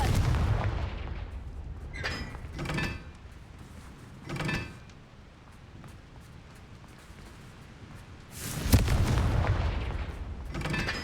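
A Confringo fire spell exploding in a Harry Potter video game, several booming blasts spaced apart with quieter rumbling between them and a large burst near the end.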